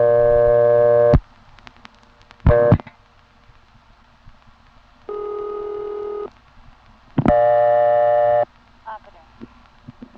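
A 1976 independent step-by-step telephone exchange in Pen Argyl, Pennsylvania, sounds its ringback tone in clear, steady buzzing bursts separated by quiet gaps, loud and close on the line.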